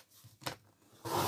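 Scissors snip through envelope paper in a short, close crisp cut followed by a brief rustling slide of paper, quiet and without talk.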